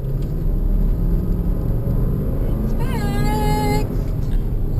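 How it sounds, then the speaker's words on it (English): A 2008 Porsche Cayenne S, just given a drive shaft fix, rolls off ramps with a low, steady engine rumble, joined partway by a brief wavering whine. "So let's get it off the ramps and take it for a drive."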